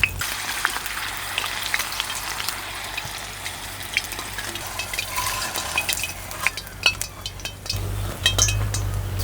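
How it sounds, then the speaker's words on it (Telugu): Green chillies fry in hot oil left over from onion kachoris, a steady close sizzle with scattered clinks and stirring sounds, and the frying grows louder toward the end, with no voices. "ఇప్పుడు పచ్చిమిరపకాయలు కూడా వేయించుకుందాం."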